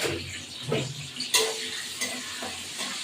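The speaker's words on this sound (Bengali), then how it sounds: "এইবার এই পেঁয়াজটা আমি দিয়ে দিলাম, অল্প একটু পেঁয়াজ দিলাম" Onion drops into hot oil in a frying pan, with a soft continuous sizzle and a few scraping stirs and clinks of utensils close by.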